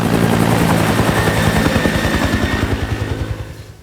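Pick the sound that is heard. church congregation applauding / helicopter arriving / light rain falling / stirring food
helicopter arriving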